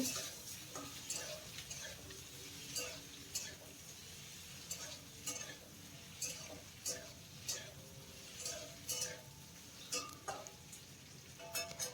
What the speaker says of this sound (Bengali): এইভাবেই সবজিটাকে দুই মিনিট হালকা করে ভেজে নিতে হবে